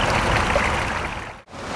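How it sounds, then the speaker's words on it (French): Water running steadily back into a main pond beneath a small stone bridge in a water garden, a continuous close rushing wash that briefly drops out near the end. "Le petit pont de pierre ici et l'eau qui retourne au bassin principal."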